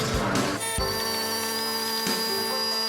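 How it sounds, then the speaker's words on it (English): A hoover vacuums the floors of a Mk1 Ford Fiesta, a loud steady motor whine with tonal hum that shifts pitch as the nozzle moves, close and continuous with no talking. "got the hoover hooked up, so just going to quickly hoover Esther's floors"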